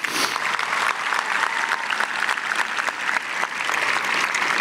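Sustained applause from a high school graduation audience in a large hall, a continuous, even wash of many hands clapping with no speech over it.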